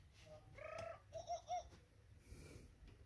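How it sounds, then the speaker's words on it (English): A jungle bird call used as a page-turn signal in a Jungle Book read-along: a short burst of cooing, chirping notes lasting about a second, fairly close and clear against a quiet background, with no talking. "You will know it is time to turn the page when you hear the jungle bird call"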